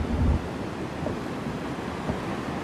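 Ocean waves roll onto shore in a steady broadband wash, with wind buffeting a Zoom Q4 recorder fitted with a wind protector. A louder rumble of gusts comes at the start.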